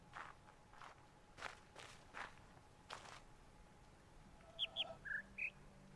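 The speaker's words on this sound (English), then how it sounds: "Chirp, chirp, deep chirp," Footsteps tread quietly across the ground in The Witness, then a few bright, bird-like chirps of a sound puzzle ring out near the end at differing pitches, all faint.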